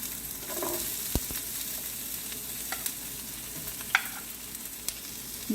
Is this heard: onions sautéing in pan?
yes